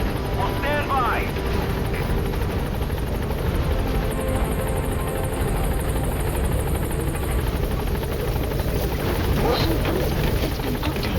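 The Pequod helicopter from Metal Gear Solid V hovering at a landing zone, a loud continuous rotor thump and turbine whine filling the scene while a radio voice speaks over it.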